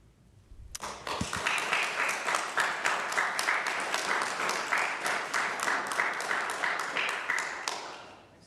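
An audience claps throughout a city council meeting, a dense, sustained round of applause that starts abruptly and carries on steadily for several seconds without speech over it.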